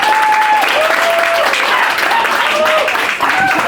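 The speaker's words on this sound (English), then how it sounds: "please give her a big applause." Audience at a sales team-training event breaks into dense, sustained applause, a loud wash of many hands clapping with faint voices mixed in.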